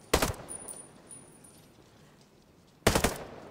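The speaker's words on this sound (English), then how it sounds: "Let's see what this assault rifle sounds like without the suppressor." Two short loud bursts of assault rifle fire without a suppressor in Ghost Recon Breakpoint, one at the start and another near the end, separated by a quiet outdoor stretch with faint wind-like hiss.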